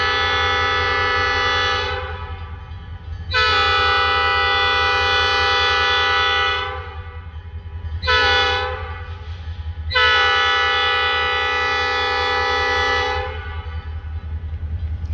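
Freight train passing in the early evening, its horn blowing several long, loud blasts over a steady low rumble of rolling cars, with short pauses between the blasts.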